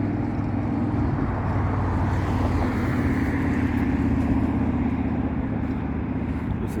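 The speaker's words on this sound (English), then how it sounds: "And a lot of traffic noise." Road traffic near an airport, heard from behind a fence: a continuous low rumble of passing cars and engines, steady and moderately loud with no distinct events.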